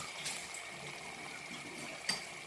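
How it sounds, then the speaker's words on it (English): Water poured sparingly into a pot of boiled green bananas, a soft steady trickle with a brief splash near the end, faint and heard alone. "I'm just gonna put just little water in it."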